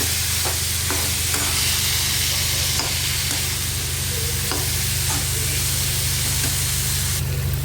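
Dry prawns, brinjal and potato sizzle loudly in a pan under a continuous, close frying hiss, with scraping strokes of a spatula mixing the pieces now and then, and no voices.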